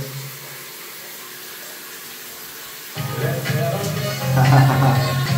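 A shower runs into a small bucket, steady hissing spray that turns fuller and louder partway through as the stream fills the bucket, heard close with no talking.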